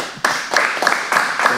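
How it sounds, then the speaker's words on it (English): A few sharp hand claps, about five, sound close and loud in an uneven rhythm during a casual talk-show conversation, with no speech over them. "Clap that up"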